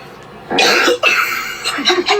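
A few sharp coughs burst out close by, broken into short bursts with brief pauses between them.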